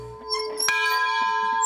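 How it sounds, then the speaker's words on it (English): The bell of a steam locomotive rings out once with a bright, sustained metallic tone that lingers and rings on after a sharp strike, loud and close inside the cab. "You ready to ring the bell?"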